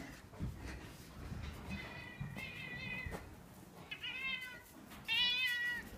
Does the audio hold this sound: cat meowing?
yes